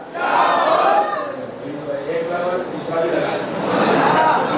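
A large crowd chants a religious slogan in unison at a Shab-e-Baraat jalsa, a loud, sustained roar of many voices that swells and fades in waves.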